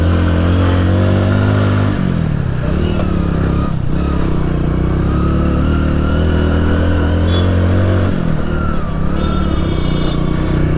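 Motorcycle engine laboring loudly and steadily up a very steep mountain road in Himachal Pradesh, a continuous close drone with slight shifts in pitch as the throttle changes.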